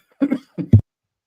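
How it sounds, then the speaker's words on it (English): Three short, rough bursts of coughing close to the mic, the last one loudest, then silence. "excuse my coughing."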